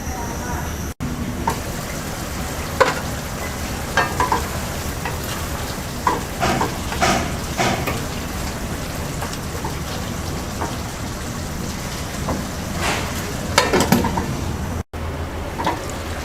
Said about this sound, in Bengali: এবার মিডিয়াম আছে সিম আলু সিদ্ধ হওয়া পর্যন্ত রান্না করব।